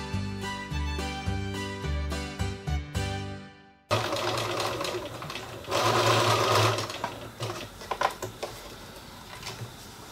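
A sewing machine bastes piping onto fabric, running in short rhythmic bursts at first, then a steadier, busier stretch of whirring and clattering mechanism, close up and loud, with no talk.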